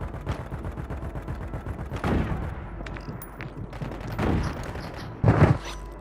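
Rapid bursts of automatic gunfire in the Warzone video game, with several volleys of varying loudness, a few heavier close shots among them and continuous battle noise underneath.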